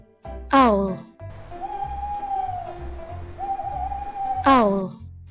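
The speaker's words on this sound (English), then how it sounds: "Owl." An owl hoots twice, each a descending call near the start and end, with a soft steady hum and a low rhythmic pulse underneath.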